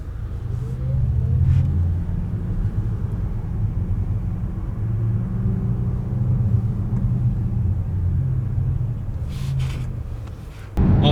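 A 2021 Porsche Taycan Turbo S drives through London, a steady low electric-drive rumble and road roar continuing throughout, fairly close, with a brief louder thump near the end.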